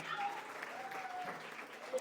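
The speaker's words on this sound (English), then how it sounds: "So let's give a round of applause for Jim Beam." Audience applause at a Washington DC hospitality industry gathering: a steady wash of many hands clapping for two seconds, fairly close, with a few voices mixed into the crowd noise.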